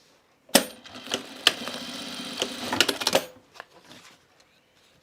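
Sewing machine stitching the inside seam of a fabric bag, giving a few quick bursts of rapid mechanical chatter with sharp clicks between them, close and fairly quiet, then tapering into scattered taps.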